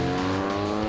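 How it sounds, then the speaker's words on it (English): A car carries passengers along a road in Guyana, a steady close interior rumble of engine and tires that runs without a break and with no voices. "we're riding in my car right now"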